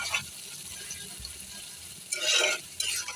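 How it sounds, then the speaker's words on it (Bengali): Ash gourd pieces stirred in plenty of oil in a pan, with a soft low sizzle and scraping throughout and a louder burst of stirring and frying noise near the end. "চাল কুমড়াগুলো সেগুলো দিয়ে সুন্দর করে নাড়াচাড়া করে নিচ্ছি"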